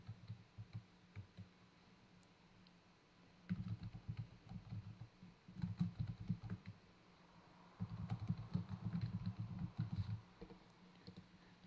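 Quiet computer keyboard typing in bursts of rapid key clicks with short pauses, including a few faint isolated taps, close and soft.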